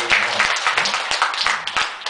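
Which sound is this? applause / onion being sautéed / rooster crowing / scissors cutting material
applause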